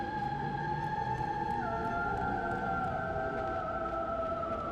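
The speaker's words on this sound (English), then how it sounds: "Yep, that is indeed a siren. What a majestic song." A siren creature sings in the Desert of Pandora in God of War on PS3: a steady, eerie, whale-like tonal wail with long held notes that dip in pitch midway, over a dense low rumbling background.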